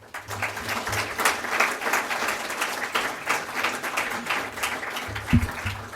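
A lecture audience applauds steadily for several seconds to welcome speaker Adam Fife, with a few low thumps near the end.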